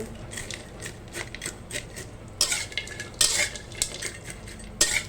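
Crispy pork cracklings being stir-fried in a pan with their own rendered oil for Thai roasted chili paste, with repeated utensil scrapes and clinks against the pan in an irregular rhythm and a few louder bursts, close and moderately loud without talk.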